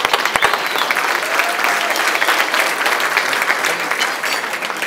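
A benefit dinner audience breaks into sustained, loud applause for a Kansas congressman, a dense wash of clapping that holds steady for about five seconds.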